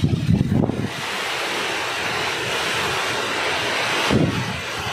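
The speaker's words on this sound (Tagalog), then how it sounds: "Kaya ganyan po kalakas ang hangin." Strong typhoon wind under a signal number 4 storm in the Bicol Region roars steadily and loudly, with buffeting gusts hitting the microphone near the start and again toward the end.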